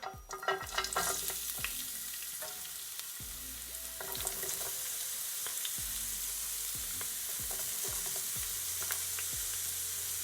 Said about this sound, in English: So now I'm just gonna firstly add my onions and my garlic.